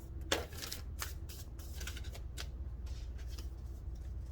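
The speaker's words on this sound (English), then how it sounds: "Let's shuffle and see what we get here for the collective spiritual message." Tarot cards are shuffled in a quick run of soft riffling and tapping, close and fairly quiet, with no voices.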